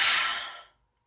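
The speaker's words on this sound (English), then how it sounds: "the sound effect used for separating the spirits of the firstborn from their biological bodies, we hear a sound akin to breathing out" A soft, breathy exhale used as an effect for the deaths of the firstborn in The Prince of Egypt, one airy breath out that starts strong and fades to silence.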